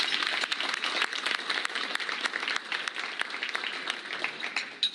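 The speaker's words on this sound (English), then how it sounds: "and for that you deserve applause" An audience applauds at a constitutional rights dinner for the Illinois State Rifle Association, a dense, steady patter of clapping that holds for several seconds, with no voices above it.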